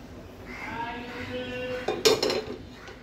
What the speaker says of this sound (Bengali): চিংড়ি মাছগুলো আমি এখানে প্রথমেই চিংড়ি মাছগুলো দিয়ে দিচ্ছি।